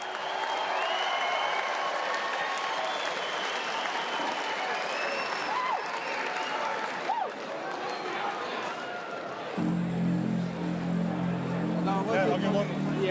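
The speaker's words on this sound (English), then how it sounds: "Last round of applause for your champion, Joseph Parker." Arena crowd applauding a boxing champion after a first-round TKO title fight, a dense sustained roar of clapping and cheering filling the hall, with a low announcer-style voice and tonal sound entering near the end.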